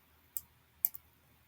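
Three faint, crisp clicks from computer keyboard key presses, one single tap followed by a quick double tap, in a quiet room.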